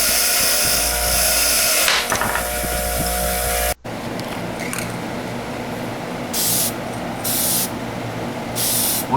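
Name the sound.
spray painting a car wheel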